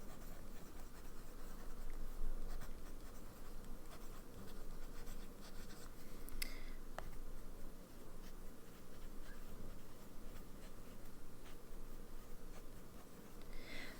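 Fountain pen with a journaler nib, filled with Van Diemen's Tasmania Vine Purple ink, moving across paper in a faint, steady scratching with small ticks of strokes and lifts, close and quiet throughout.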